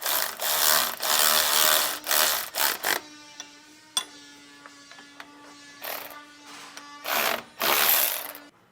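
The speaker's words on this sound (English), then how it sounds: "we'll first snug down these stock bolts here" Stock bolts being snugged down on a Hellwig front anti-sway bar for a 2014 Tiffin Allegro motorhome, with close, faint ratchet clicks and short metallic tool bursts separated by brief quiet gaps.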